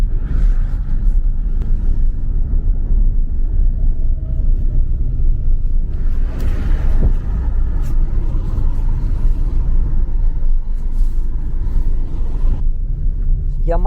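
A car driving slowly through a quiet, green residential area of Torrevieja, Spain, heard from inside as a steady loud low rumble of engine and road noise with no talk.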